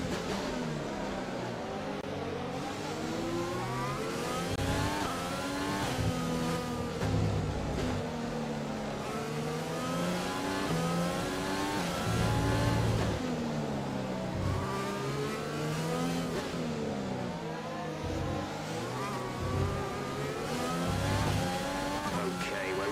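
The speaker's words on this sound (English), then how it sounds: "Internal combustion engine. Let's try and keep the revs down." Race car engine in an F1-style Grand Prix game, revving and shifting through gears on track in repeated rising sweeps, loud and continuous beneath a voice.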